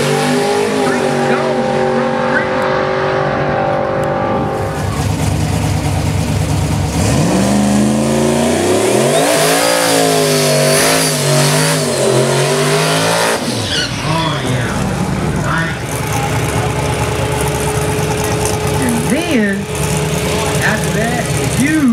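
An orange Ford Mustang race car accelerates on a racetrack, engine revving loud and rising and falling through gear changes, with tire squeal and a voice talking over the roar.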